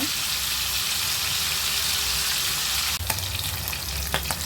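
Hilsa fish, including head and tail pieces, fries in hot oil with a loud, continuous sizzle. Near the end, a few sharp clinks and scrapes of utensils in the pan break through the hiss. No one speaks.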